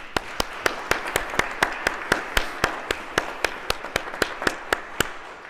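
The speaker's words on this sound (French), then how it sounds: "Alors, bonne main d'applaudissements." A church congregation applauds two newly elected churchwardens, with sharp, evenly spaced individual claps ringing out close and loud in a steady rhythm, about four per second, and no voices over them.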